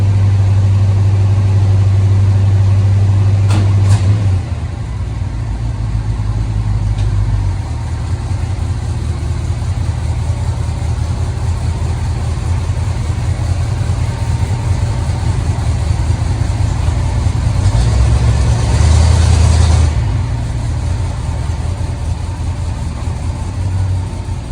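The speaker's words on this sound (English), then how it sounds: "Tractor started up, no problem." Tractor engine idling in a cold setting, a steady low rumble heard close up for the whole stretch, with a brief change in tone near the start and a short surge toward the end.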